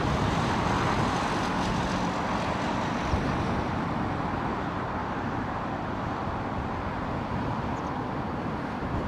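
A Qatar Airways Airbus A350-1000 comes in on final approach to Heathrow's runway 27L, a steady broadband jet roar that holds at constant loudness throughout, mixed with distant road traffic.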